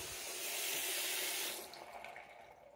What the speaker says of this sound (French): Je vais faire recouler l'eau.